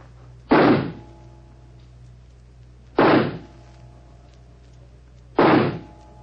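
Pistol shots at a shooting match as a radio drama effect: three evenly spaced, heavy muffled bangs roughly two and a half seconds apart, each with a short decay over a low steady hum.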